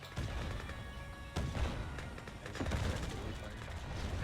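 Gunfire in the real-time strategy game Yuri's Revenge as a unit shoots at the ground, a dense crackle of overlapping shots with sharper bursts, running steadily under constant background game noise.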